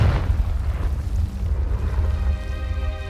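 Confringo spell explosion in the Hogwarts Legacy video game: a loud, deep rumbling blast that rolls on for several seconds, heavy in the low end. Fainter tonal game sounds shimmer faintly near the end. No voices.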